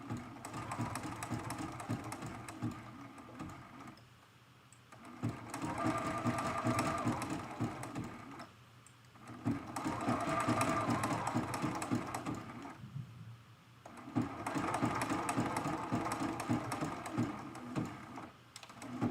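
A sewing machine runs a zigzag stitch on a quilted mug rug applique in three long whirring runs, each separated by a short pause, steady and close.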